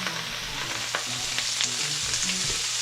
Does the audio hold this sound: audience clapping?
no